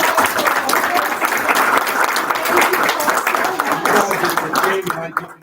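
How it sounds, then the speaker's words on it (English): Loud, sustained applause fills a school board meeting, a crowd clapping steadily throughout and fading near the end, with voices mixed in. "Can we have a round of applause?"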